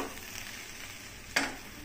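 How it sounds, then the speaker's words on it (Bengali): Spicy semolina (jhal sooji) sizzles softly in a pan, a steady low frying hiss with one brief sharp scrape of stirring near the end. "মোটামুটি সেদ্ধ হয়ে গেছে, দিয়ে একটু নাড়িয়ে নিন, আর আঁচটা ধিম করে দেবেন।"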